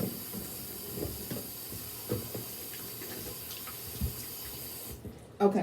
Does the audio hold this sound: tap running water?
yes